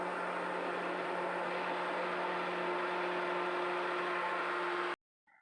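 A handheld electric blender whirs steadily and loudly for about five seconds as it churns cultured cream into butter for homemade desi ghee in a home kitchen, then cuts off abruptly, leaving a faint clink afterward.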